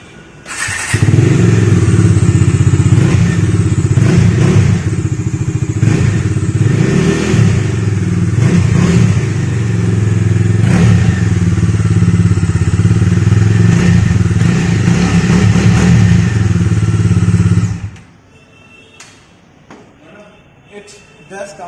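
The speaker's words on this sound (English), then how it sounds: "Now it's time for the exhaust note of this Dominar 250." A Bajaj Dominar 250 motorcycle with a BS6 engine idles with a loud, bassy, steady exhaust note for about seventeen seconds, then cuts off abruptly, leaving faint background noise.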